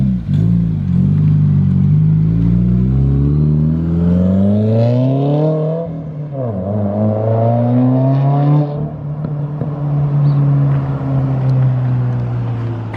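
A Subaru WRX fitted with an Invidia N1 race version exhaust revs loud and close, its engine note climbing and falling in smooth sweeps with a rough, burbling edge. No one speaks.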